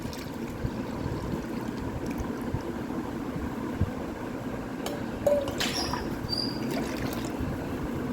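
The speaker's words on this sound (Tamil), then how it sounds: "இந்த தேங்காய் பாலையும் இதில் ஊற்றிடலாம்" Coconut milk pours into a cooking pot for a Kerala-style fish curry, a continuous soft liquid rush and trickle with a few small clinks near the end.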